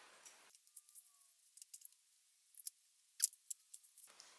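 Scissors snip through elastic during a sewing project, giving a series of faint, crisp clicks and snips close by in an otherwise quiet room.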